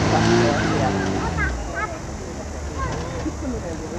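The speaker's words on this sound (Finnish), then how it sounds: "Ei muuta kuin hieman perutellaan alaspäin ja mennään pois pätkältä." An off-road trial car reverses down off a competition section near Turku, its engine note rising and falling with some tire scrabbling on rough ground while people talk over it throughout.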